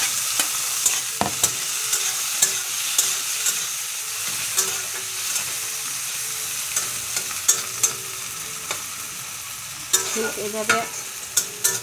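Chopped tomato sizzles in a pan with continuous frying hiss, broken by frequent spoon scrapes and taps as it is stirred, up close. A single brief spoken word is heard.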